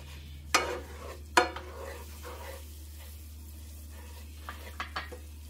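Flour stirred into a sizzling pan for chicken pot pie, with a low steady sizzle underneath and a few sharp scrapes of the spoon against the pan.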